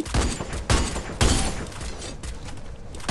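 Sniper gunfire in a mobile battle royale game, with several loud sharp shots standing out over dense, continuous in-game battle noise.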